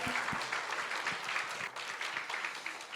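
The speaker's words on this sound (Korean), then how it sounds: "우리 목사님하고 사모님 박수 한번 뜨겁게 환영하겠습니다." A Sunday worship congregation at a Seoul church applauds warmly to welcome its pastor and his wife, close, continuous clapping with a few sharper claps standing out.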